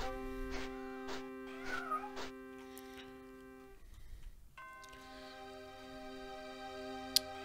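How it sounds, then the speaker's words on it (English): A cat in the video game The Elder Scrolls II: Daggerfall meows several times in a row over a steady tonal music drone, then falls quiet while the music carries on with one faint click near the end. "I heard a cat. Where's the cat?"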